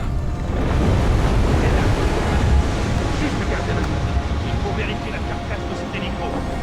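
Aircraft crash from Batman: Arkham Origins, heard as a continuous loud roaring rumble with broadband noise. The roar holds steady throughout, with faint tonal elements above it.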